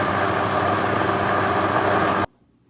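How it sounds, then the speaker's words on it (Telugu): A kitchen blender whirs steadily at full speed, pureeing pear and banana with cinnamon into a smoothie, a loud, even motor drone that holds for about two seconds and then cuts off abruptly into quiet. "సో ఇప్పుడు మనం బ్లెండ్ చేస్తాను."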